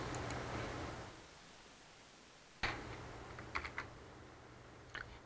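Typing on a computer keyboard in a classroom, with a few scattered key taps and clicks at moderate distance after a stretch of noise, and no one talking.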